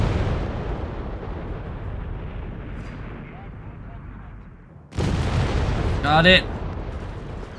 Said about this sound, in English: good shot there from the Pack 40